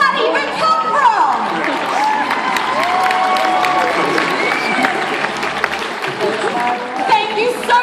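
A convention crowd applauds and cheers for a cosplayer leaving the stage at a cosplay competition, loud sustained clapping with whoops while a presenter talks over it.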